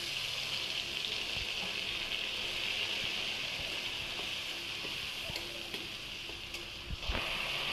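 Spice paste of chili powder, coriander and cumin powder with a little water and softened tomatoes fries in oil, giving a steady close sizzle and hiss that runs throughout with a few faint clicks.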